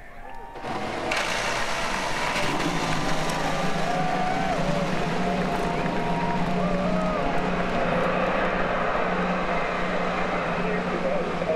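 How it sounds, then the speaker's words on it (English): IndyCar race car engines starting on the grid at Laguna Seca, a dense, sustained roar that swells in after a second and holds steady and loud, with a crowd or announcer's voice mixed underneath. "Drivers, start your engines!"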